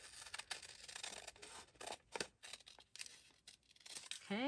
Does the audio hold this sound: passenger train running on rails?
no